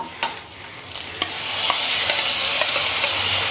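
Tomatoes drop into roasted onions frying in oil for paneer masala, bringing a sharp sizzle that swells and holds, with several distinct stirring clicks and scrapes against the pan.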